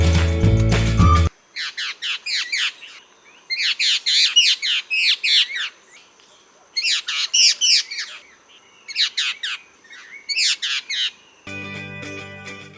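Orange-billed babblers, a noisy flocking bird endemic to Sri Lanka, give repeated bursts of harsh, chattering squawks in several close clusters separated by short pauses, loud and near, with brief music at the start and end.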